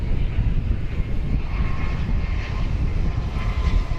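A plane landing at DFW Airport at night gives a steady, broad engine roar that holds evenly throughout, a continuous wash of aircraft noise with no voices over it.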